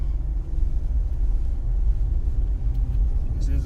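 A 2002 Nissan Pathfinder SE engine idles after running for some time, a low, steady rumble close by with someone speaking briefly over it.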